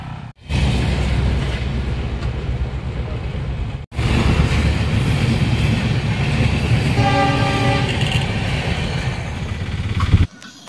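A train rumbles loudly past a railway crossing at close range, with steady rolling roar, a brief break, then a sustained horn blast near the end.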